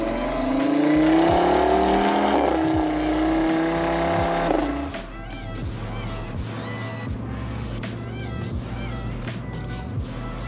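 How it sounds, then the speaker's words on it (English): Audi RS3 five-cylinder engine revs loudly, rising then dropping to a throbbing idle with a rhythmic pulse and some sharp transients, close and dominant throughout. "I love that big 5-cylinder energy."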